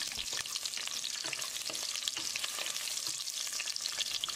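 Cashews and two green chilies sizzle and crackle as they are stirred in hot oil in a pan, a steady, close frying hiss with light scraping, heard alone.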